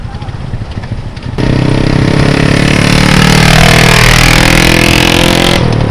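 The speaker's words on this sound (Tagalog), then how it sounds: "Grabe, sakit sa tainga ng motor mo. Tambutso mo." A motorcycle with a loud, ear-splitting exhaust roars close by on an election-day street, rising from rough idle into a sustained, blaring rev that holds for several seconds before cutting off at the end.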